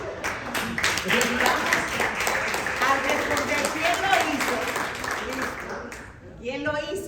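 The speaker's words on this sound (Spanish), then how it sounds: "Vamos a dar un aplauso al Espíritu Santo." A congregation breaks into applause during a Spanish-language talk on faith and autism, sustained clapping over a murmur of voices, fading near the end as a speaker resumes.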